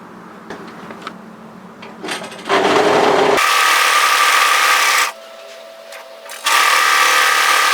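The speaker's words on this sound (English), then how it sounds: "just overlock tidy the straight edge on both of these pieces" A three-thread overlocker serges a wide stitch along the raw straight edge of fabric pieces for a bias slip nightgown, running in a loud steady whir that starts, pauses briefly, then resumes, with no one talking.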